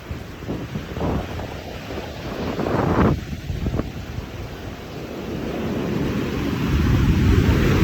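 Large ocean waves roll and break at Jomtien Beach under steady wind buffeting the microphone, with a few louder surges of surf standing out before a continuous wash builds toward the end.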